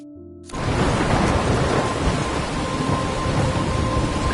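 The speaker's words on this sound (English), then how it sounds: "trapped in a storm?" Thunderstorm with heavy rain in the game Life is confuse, starting abruptly after a quiet half second into a loud, dense roar of downpour with rumbling thunder, sustained and unbroken.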